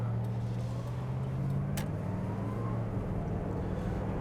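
A 1980 Chevrolet Camaro Z28 accelerating on the road, heard from inside as a steady engine drone with a low rising tone, with no talk over it.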